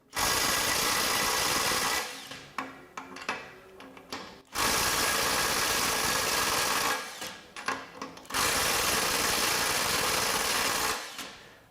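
A cordless impact driver hammers 250 foot-pound bolts loose on a 4 amp hour battery, with three loud sustained bursts of rapid rattling impacts separated by short pauses and clicks.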